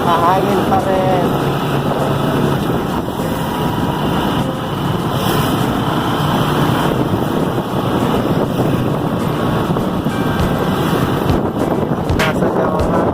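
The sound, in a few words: strong wind during Typhoon Pepito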